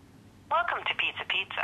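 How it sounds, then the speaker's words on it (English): A cellphone keypad dials a telephone number, a quick series of DTMF tones, each short beep pulsing separately with brief gaps, clear and fairly close with no talking. "I will now dial a number I want to reach."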